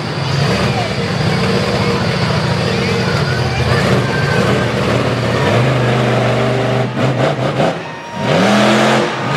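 Monster truck engine revving during a freestyle run in Brookville, Pennsylvania, a loud roaring engine rising and falling in pitch with sharp throttle bursts near the end, under a commentator's voice.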